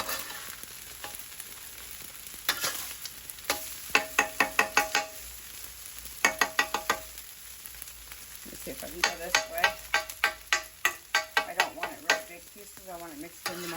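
Pork fried rice cooks on a hot griddle: a constant sizzle under rapid bursts of sharp metal spatula clacks and scraping as the rice is tossed and chopped, loud and close.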